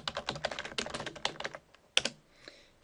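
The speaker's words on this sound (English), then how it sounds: "So I'll type in a couple of my own websites" Quick keystrokes on a computer keyboard, a close flurry of uneven clicks that slows and stops, then a single sharp tap after a short pause.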